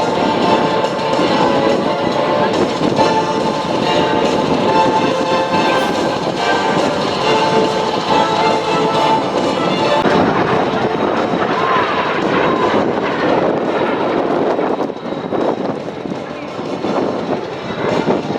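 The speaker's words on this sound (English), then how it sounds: "fly at very, very low speed with the L-39 Albatros" A continuous roaring jet rumble from an L-39 Albatros flying low and slow at a Breitling Jet Team air show, loud and sustained, swelling and shifting slightly over the whole stretch, with a public-address voice faintly underneath.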